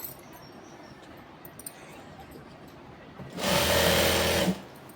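A sewing machine makes one loud, steady whirring burst of about a second while stitching sharara pants, after a quiet stretch of faint rustling.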